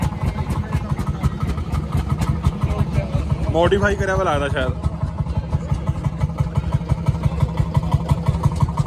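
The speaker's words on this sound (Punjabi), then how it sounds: "ਆ ਟਰੈਕਟਰ ਸਿਲੰਡਰ ਨਾਲ ਚੱਲਦਾ ਦੇਖੋ ਪਿੱਛੇ ਸਿਲੰਡਰ ਪਾਇਆ ਹੋਇਆ" A 130-year-old tractor engine running on a gas cylinder in Italy chugs loudly with a steady, rapid thumping rhythm close by, while a person speaks briefly over it.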